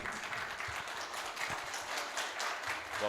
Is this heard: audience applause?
yes